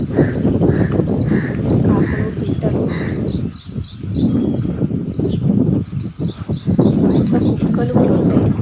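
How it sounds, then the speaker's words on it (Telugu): Several birds chirp and call repeatedly over a busy, rumbling outdoor background, their bright notes overlapping in quick bursts. "ఊళ్ళలో చూడండి పిట్టల పిట్టెల సౌండ్ ఎంత బాగుంటుందో భలే అరుస్తుంది చెట్ల మీద"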